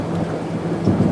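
A stormy sky carries a low, continuous rumble of thunder over a steady wash of falling rain, sustained and fairly loud throughout the short stretch with no voices.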